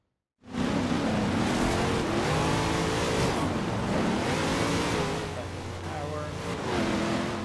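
A car in Forza Horizon 2 on the Storm Island DLC, its engine revving hard and rising and falling while it races and slides, loud and close, with someone talking over it.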